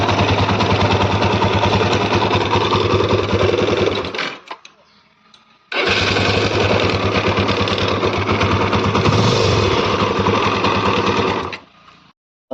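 A TVS Apache motorcycle's self-starter grinds harshly from the magnet side with a fault in the one-way starter bearing, a loud rattling whir that runs for about four seconds, stops, then repeats for about six seconds.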